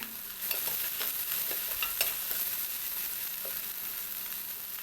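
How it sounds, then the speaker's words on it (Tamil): Finely chopped onions sauté with salt in a hot pan, a steady close sizzle with scattered scrapes and stirs of a spoon throughout. "வெங்காயத்தையும் நல்லா குருணியாக வெட்டி இதோடு சேர்த்து நல்லா வதக்கணும்."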